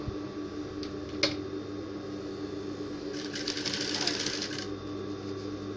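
A sewing machine stitches a bias strip around a jumpsuit's keyhole neckline, a faint, quick run of rapid needle clatter over a low room hum.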